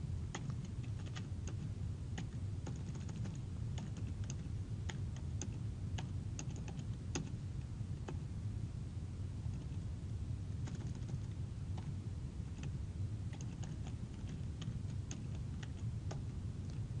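Steady clicking of a computer keyboard as C code is typed, a fast irregular run of close, crisp keystrokes with brief pauses, no voices.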